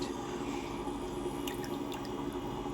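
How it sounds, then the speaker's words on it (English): Liquid arnica pain salve formula being poured, giving a steady, continuous wash of liquid noise with a few faint drips and splashes, fairly close. "Just start pouring a little bit."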